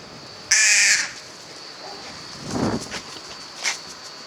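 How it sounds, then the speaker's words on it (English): Magpies call around a high school grounds: one loud, harsh caw lasting about half a second, then fainter scattered calls and rustling footsteps nearby. "Magpies. Get lost."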